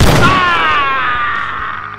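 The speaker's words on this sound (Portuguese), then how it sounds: "ele dispara vários tiros em Wolverine e foge dali" Gunfire in a Wolverine story set on Coney Island: a loud blast rings out with a long decaying boom and a sustained ringing tail.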